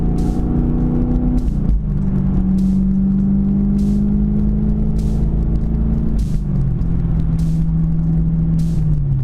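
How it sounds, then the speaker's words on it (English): A very loud car exhaust drones inside the cab while driving, a steady heavy rumble whose pitch drops twice as the engine shifts, with faint clicks over it. "I don't know if it's gonna pick the exhaust up. It is so fucking loud in here right now."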